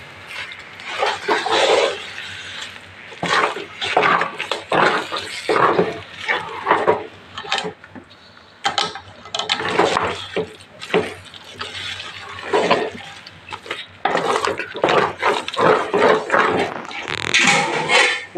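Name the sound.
stirring jaggery into rice halwa in a pot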